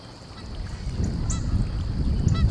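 Wild goose near a pond giving a couple of short honks over a rising, rumbling background, with one call in the middle and another near the end, fairly close.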